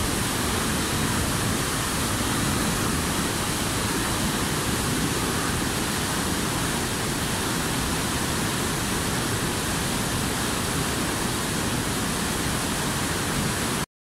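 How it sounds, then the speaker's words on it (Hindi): Floodwater on the swollen Chenab river at Head Marala near Sialkot surges past in a loud, unbroken roar of broadband rushing noise, steady throughout with no voices over it. "पानी जो है बहुत ज़्यादा तादाद में ठाठे मारता हुआ यहाँ से मुसलसल गुजर रहा है"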